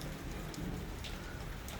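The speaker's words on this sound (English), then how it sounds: "I'm going outside and record outside when it's raining. This is summer rain." Summer rain falls steadily outdoors, a faint, even hiss of drops hitting surfaces with occasional louder splashes, and no voices.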